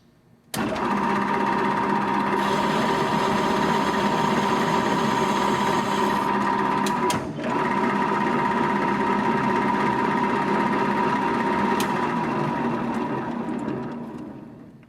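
A metal lathe takes a light finishing pass on a screw thread, giving a steady, loud mechanical whir with a strong tonal hum that runs almost continuously, dipping briefly once midway before resuming and tapering at the end.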